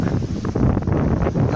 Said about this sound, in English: Blue skies, nice breeze.